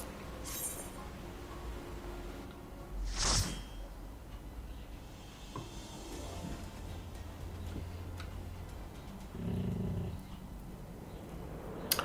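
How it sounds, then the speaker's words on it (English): A dog grunts and rumbles softly in the background, faint low grumbles that come and go beneath quiet room noise, with a few brief louder bursts. "if you can hear a grunting in the background, that's just the dog"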